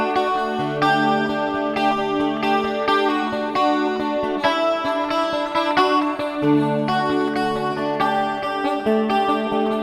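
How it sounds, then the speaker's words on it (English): A 12-string guitar played through a hall reverb pedal, bright ringing strummed chords and picked notes blooming into a long, washy tail that fills the gaps between strums, loud and close. "Like I said, is a hall reverb."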